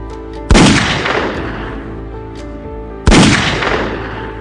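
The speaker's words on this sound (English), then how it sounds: "Fires 2 shots at Kim" Two sharp, loud gunshots ring out about two and a half seconds apart in a violent scene from the South Korean film I Saw the Devil, each with a booming echo that fades over a steady background hum.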